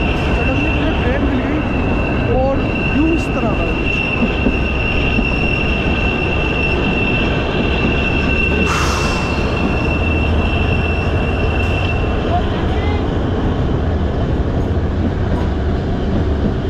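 A toy train to Shimla runs on its rails with a continuous loud rumble and clatter, a steady high whine, and occasional squeals from the wheels, with faint voices in the background.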